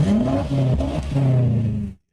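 A BMW M8 Competition sports car engine revs hard close by, pitch climbing, dipping with a gear change, then surging again before cutting off abruptly.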